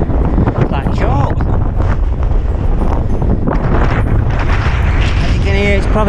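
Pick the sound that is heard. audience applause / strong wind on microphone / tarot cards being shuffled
strong wind on microphone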